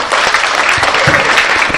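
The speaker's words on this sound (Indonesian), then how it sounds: "Oke, tepuk tangan." Audience clapping at a talk on smartphone photography, a brief dense burst of many hands applauding together at close range.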